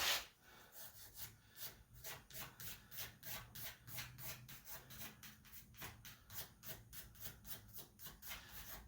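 Coarse 60 or 80 grit sandpaper rubs back and forth across a wood blank while a joint is dressed before gluing, a steady rhythmic scraping of about two strokes per second, close and fairly loud with no talk.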